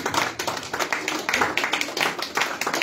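A church congregation claps to acclaim the Lord, quick rhythmic hand claps in a steady, lively beat, with voices mixed faintly in the background.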